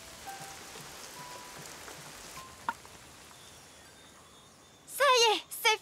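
Heavy rain falls in a steady, even hiss that fills the background, with a few faint chirps, before a voice speaks briefly near the end.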